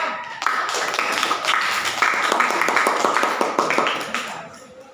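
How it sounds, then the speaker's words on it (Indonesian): A classroom of students applauds their classmates in group 4 after a presentation, with dense, fast clapping from many hands that stays steady for about four seconds before tapering off at the end. "Beri tepuk tangan kembali kepada kelompok 4"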